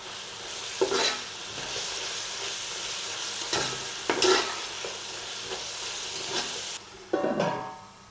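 A handful of coriander and mint leaves fried and stirred in a pan for coconut milk ghee rice, giving a constant close sizzle broken by several louder scraping stirs.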